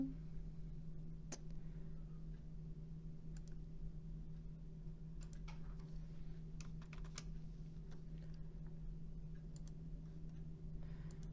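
Quiet, irregular keystrokes on a computer keyboard as a follow-up CBC order is entered into a hospital patient record system, sparse clicks over a steady low electrical hum.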